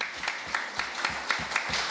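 Clapping at a public economic report presentation in Iquitos, Loreto, with sharp, evenly spaced claps about every quarter second over a low murmur, like a small group keeping rhythmic time.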